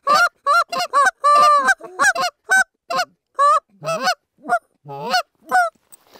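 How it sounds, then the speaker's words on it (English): Canada goose calls from two callers, rapid honks and clucks in an uneven back-and-forth sequence, loud and close with no talk. "So then it sounds like a couple different geese."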